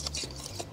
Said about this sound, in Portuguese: Eu estou usando aqui o próprio globo da batedeira, tá? Eu só vou mexer mesmo para poder homogeneizar